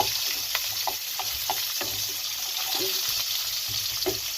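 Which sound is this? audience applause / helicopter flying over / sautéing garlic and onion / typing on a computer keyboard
sautéing garlic and onion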